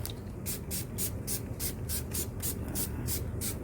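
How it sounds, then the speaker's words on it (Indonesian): Disinfectant sprayed onto a delivered package, a quick run of about a dozen short, even spray bursts in a steady rhythm, close and fairly loud over faint background noise. "semprotin ini gitu kan, semprotin keliling, kita semprot."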